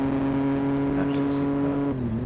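A Triumph Street Triple motorcycle engine holds a steady high rev, then dips sharply near the end as the rider dips the throttle for a gear change, with wind noise throughout.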